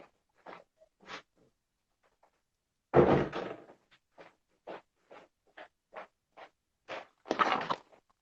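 A door is pushed shut indoors with a loud thud and rattle partway through, surrounded by scattered soft knocks and footsteps in an otherwise quiet room.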